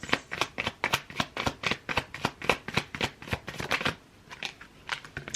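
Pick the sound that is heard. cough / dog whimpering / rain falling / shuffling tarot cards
shuffling tarot cards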